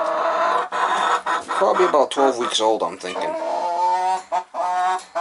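Chickens, including red sex links, cluck and squawk close by in a steady, busy chatter, with someone speaking briefly over the birds.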